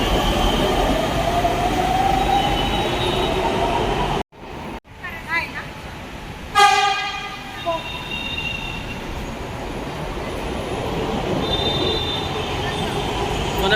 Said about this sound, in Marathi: हे आता व्हिडिओमध्ये दोन्ही ट्रेन, एक जा रही है एक आ रही है.